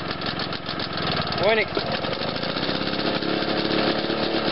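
A Victa utility small engine runs rough, chugging loudly and close with an uneven, pulsing rhythm, while someone talks briefly over the noise partway through.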